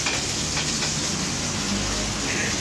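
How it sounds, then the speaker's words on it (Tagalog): Dried fish frying in hot oil gives a steady, dense sizzle that fills the whole stretch, close and fairly loud, with no talking over it. "nagpiprito na siya ng tuyo"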